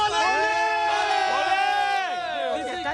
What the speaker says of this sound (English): And the shout for Kohli at the end. Okay, give me a shout.